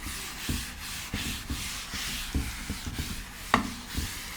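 An eraser rubs writing off a classroom board in repeated back-and-forth strokes, a rhythmic, scratchy swishing at close range with one sharper knock near the end.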